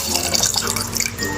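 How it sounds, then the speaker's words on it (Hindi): Full-cream milk poured into a saucepan set on a gas stove, a steady, close liquid rush that runs without a break, with a faint background hum and no voices. "सॉस पैन को चूल्हे के ऊपर चढ़ा देंगे और इसके अंदर दूध डालेंगे"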